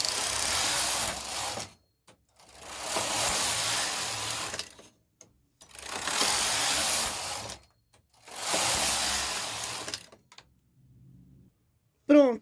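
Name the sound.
knitting machine knitting a sweater collar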